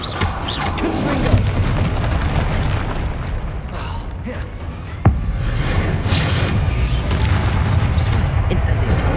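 A Confringo fire-blast spell bursts amid a continuous roar of magical combat in the game Hogwarts Legacy, with one sharp, loud pop standing out from a dense, rumbling background of spell effects.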